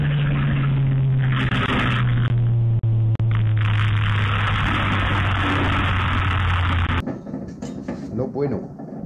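BMW 135i running on a dyno, a steady loud engine drone with a low hum for about seven seconds before cutting off abruptly, leaving a quieter rumble and faint clatter.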